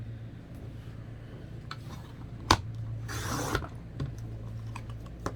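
A paper cutter trims the edge of a junk journal cover on a quiet tabletop: a sharp click, then a brief gritty swish of the blade sliding through, with light tapping and handling noises around it.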